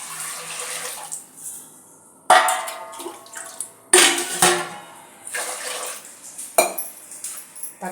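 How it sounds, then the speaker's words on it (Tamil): Water is poured into a pressure cooker holding washed toor dal in a kitchen, with sharp metallic clinks and knocks of the vessel and utensils punctuating irregular bursts of splashing, close and fairly loud. "இப்போ தண்ணி சேர்த்துக்கலாம்."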